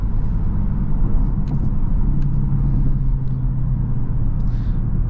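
A 2023 Genesis G70 with a 2.0-litre turbo engine and 8-speed automatic is driven, producing a steady low engine drone and road rumble heard from inside the cabin at a constant level.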